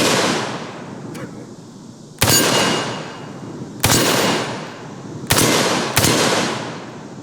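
Heavy .308 shots from a PTR-91, an American clone of the HK rifle, fired at steel targets outdoors. Five loud, sharp reports come at irregular intervals, and each one rings out into a long decaying tail, with no talking.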